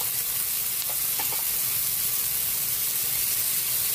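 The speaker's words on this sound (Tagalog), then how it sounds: "At habang nagigisa tayo ng ating pinakbit," Pinakbet vegetables and fermented shrimp paste sautéing in a pan give a steady, close, broadband sizzle that runs unbroken, with a few faint stirring clinks and no talk.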